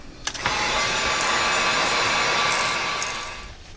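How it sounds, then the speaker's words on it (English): A heat gun drying paint on a pumpkin craft piece blows a steady, loud, close airy roar. It switches on after a few faint clicks, holds evenly for about three seconds and then cuts off, with no talking. "we're going to dry this really well with the heat gun"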